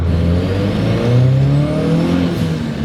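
Turbocharged Honda engine swapped into a Mazda RX-7, revving loud and close, a steady throaty drone that rises in pitch and then settles.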